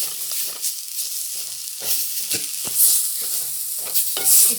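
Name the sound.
sautéing ground masala paste for crab curry in a pan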